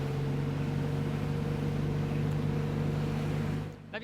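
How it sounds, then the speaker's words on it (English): A motorboat's 300 hp Suzuki outboard engine holds a steady, loud, constant low drone on the sea along the coast, then drops away abruptly near the end. "Let's try out this boat with a 300 horsepower Suzuki engine."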